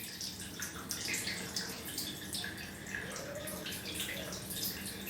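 Cold water pouring and splashing steadily over bare knees, a continuous running, dripping wash with no one speaking.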